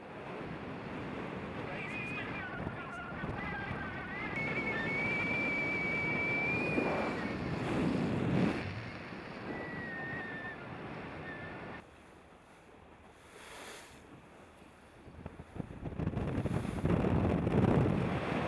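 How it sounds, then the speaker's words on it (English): A Sealine S34 motor boat pounds through rough breaking water off the Welsh coast, with wind buffeting the microphone, surging hull and spray noise, and a brief lull before the roar builds again. "That was about the equivalent of whitewater rafting in Sealine 34, I think."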